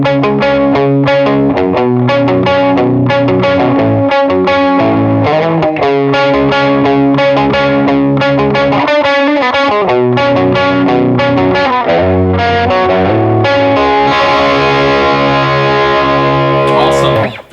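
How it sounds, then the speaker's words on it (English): Electric guitar with its distortion dialed back to a semi-clean, semi-dirty tone plays the opening riff of a song, built on power chords. The riff is loud, steady and rhythmic, and ends with a sustained chord. "So opening up the song, we have one of the guitars. Dial back your distortion, semi-dirty,"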